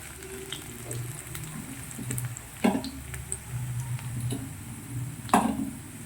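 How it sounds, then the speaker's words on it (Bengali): Food frying in a pan until reddish makes a low, steady sizzle, broken by a couple of sharp scraping clatters as it is stirred. "লাল লাল করে একটু ভেজে নিই"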